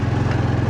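A motorbike engine labours uphill in second gear on the road to a radar view tower near Kathmandu, giving a steady, close, low throbbing drone with a regular pulsing rhythm and no talk.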